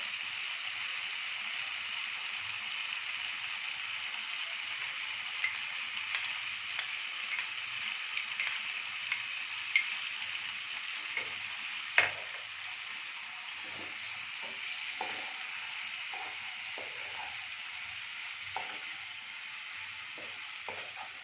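Cashew paste frying in a pan for a moong dal omelette curry gives a steady, even hiss of sizzling, broken by a few light clicks and scrapes of stirring.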